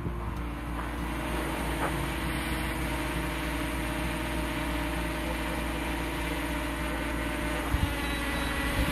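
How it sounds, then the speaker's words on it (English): A small drone hums steadily as it descends to land at dusk, its even mechanical whir continuous and fairly close with little change in loudness. "there's the drone. I'm gonna land it."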